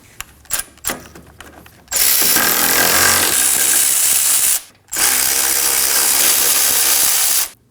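A 19mm socket on a ratchet backs out caliper bracket bolts on a 2017-2024 Nissan Armada's rear brakes: a few sharp clicks, then two long, loud close bursts of steady mechanical whirring separated by a brief pause.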